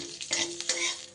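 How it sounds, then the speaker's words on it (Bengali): Gobindobhog rice being stirred in hot ghee gives a brief, close burst of sizzling and scraping, a couple of quick stirring strokes within a second. "ঘিয়ের মধ্যে আমি দিয়ে দেব খুব অল্প পরিমাণ একটু গোবিন্দভোগ চাল। এই চালটাকে একটু ভেজে নেব"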